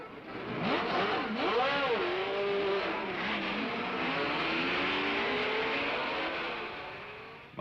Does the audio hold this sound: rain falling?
no